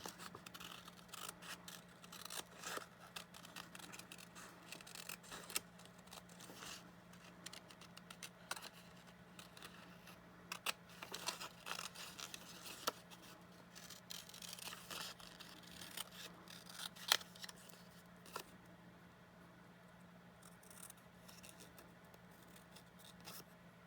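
Scissors fussy-cutting paper pieces for a handmade junk journal, giving a steady run of soft, close snips and small crisp clicks over a quiet, constant low hum, with no talking.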